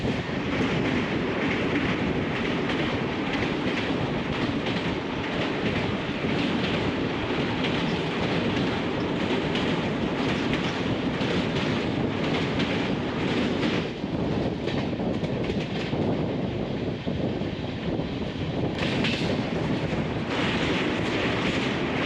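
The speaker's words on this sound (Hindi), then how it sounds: "हमारी ट्रेन पहुंच रही न्यू बोंगाईगांव जंक्शन" Rajdhani Express 12423 from Dibrugarh to New Delhi rolling on the rails toward New Bongaigaon Junction, a loud, steady, continuous rumble and rattle of wheels and carriages with no pauses.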